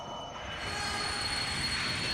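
A train rumbles and squeals steadily up close in the video game The Darkness, a continuous metallic roar with no voices.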